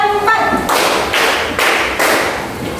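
A class of students claps in a counted classroom routine, with loud broadband bursts of clapping in a steady rhythm about every half second, following a brief spoken lead-in.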